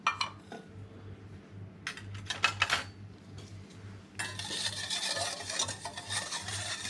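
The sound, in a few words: stirring salt into eggs for pastry dough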